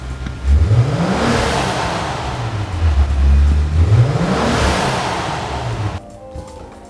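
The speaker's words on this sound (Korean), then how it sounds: "악셀링을 한번 해볼게요." A Maserati Levante Modena's 3.0-litre, 350-horsepower engine revs up twice through two exhaust pipes, rising and falling in pitch, loud and close, then settles back to a steady idle before cutting off.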